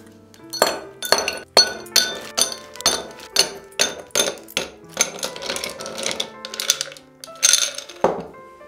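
Drinking glasses clink and knock as they are set out for iced caffè americano, a string of bright, close glassy taps at a fairly even pace with a heavier clunk at the end.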